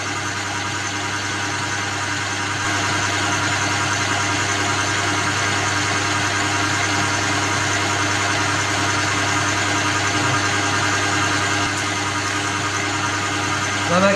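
Electric mixer whipping cream for a white chocolate yule log, giving a steady, loud motor whine that steps up in intensity partway through as the speed is raised.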